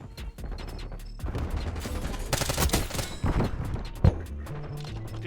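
Black Ops 6 multiplayer gunfire, bursts of automatic shots with a louder sharp crack near the end, set against game music and effects.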